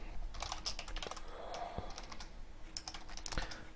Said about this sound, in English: Now, I'm just going to start typing a C++ program.